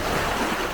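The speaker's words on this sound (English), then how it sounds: "it is becoming high tide now, so the water is quite a ways up on the beach" Ocean waves at high tide washing far up Chaweng Beach on Koh Samui, a brief, dense rushing wash of surf with wind noise and no voices.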